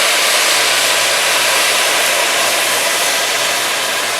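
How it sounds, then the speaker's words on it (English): White wine deglazes a pan of shallots and garlic for risotto, giving a loud, steady, close hiss throughout with a faint low hum underneath and no talking. "So now we are going to take some white wine here, and we're going to deglaze"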